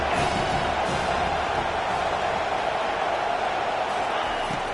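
Stadium crowd at a college football game, a dense, steady roar of cheering and noise filling the whole stretch without letup, broad and loud but somewhat distant.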